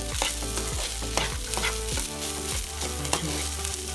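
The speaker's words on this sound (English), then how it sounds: "I'm going to stir that around." Rice with garlic and spring onions being stirred in hot oil in a pan for gallo pinto, a steady sizzle broken by repeated scraping strokes at an irregular rhythm, close and fairly loud, with no talking.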